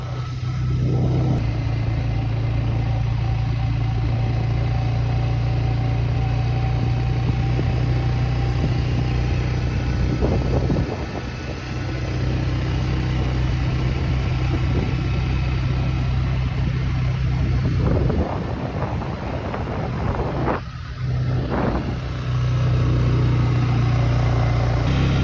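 A 4-wheeler ATV engine running while driving on a rough hunting road in Idaho, a loud, steady droning engine with bumpy rattling and brief surges throughout, close up and continuous.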